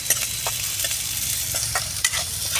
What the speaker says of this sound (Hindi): अब इसमें डाल देते हैं भाई प्याज, और प्याज को भी फ्राई कर लेते हैं अच्छे से